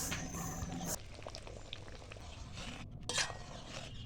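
A spoon stirs a pot of boiled lentil dal with fried eggs and cooked spices, giving faint, soft scraping and clinking over a low simmer, quiet and close with no talking.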